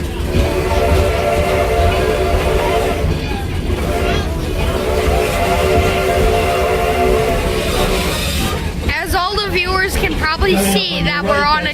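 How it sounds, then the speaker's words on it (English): A heritage train ride at Greenfield Village pulled by a 25-ton steam engine, with a loud, continuous rumble and rattle of the moving cars and a sustained horn-like tone, and people talking near the end. "See that we're on a train."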